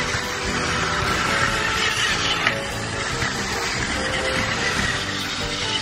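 Plarail toy Shinkansen trains, a 200-series-coloured E2 and an E3 Komachi coupled set, run along plastic track with a steady, close, continuous rattling whir that holds level throughout.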